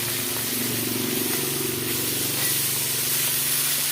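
Fish (bhutnath) frying in hot oil in a home kitchen, a steady, dense hissing sizzle with a low bubbling undertone that runs unbroken throughout.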